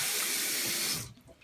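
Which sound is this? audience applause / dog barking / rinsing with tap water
rinsing with tap water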